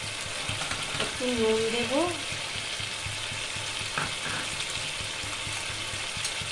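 Chicken kosa frying in a pan with tomato and sugar just added, a steady close sizzle running throughout while a voice speaks briefly over it.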